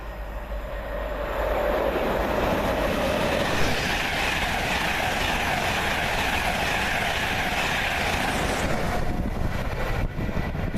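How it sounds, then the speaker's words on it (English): A King's Cross passenger train rumbles and clatters steadily past for about ten seconds, its noise swelling quickly and then easing off near the end. "here's the King's Cross train coming through"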